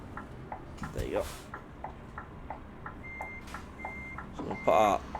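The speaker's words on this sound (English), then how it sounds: "So we'll put our window down so you can hear beeping again" A truck in Euro Truck Simulator 2 backs up, its reversing alarm giving steady repeated beeps at moderate distance over a low engine hum, with a few louder knocks and a brief swell of noise.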